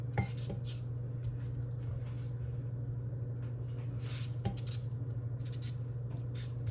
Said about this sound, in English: I'm going to cut them fairly large. Like quarter them.